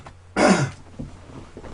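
One short, harsh cough-like throat clear bursts out near the start, close and fairly loud, then fades into quiet room noise.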